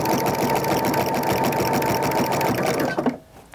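A sewing machine runs steadily, stitching and backstitching through a jelly roll fabric rug, its close, continuous whirring motor and rapid needle rhythm stopping abruptly near the end.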